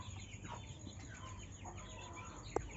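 Chickens kept for egg production cluck softly and repeatedly, with low murmuring calls overlapping in a quiet coop setting and one sharper brief call near the end.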